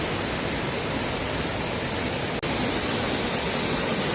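Small waterfall beside a forest trail, a steady near broadband rush of falling water with one brief dropout.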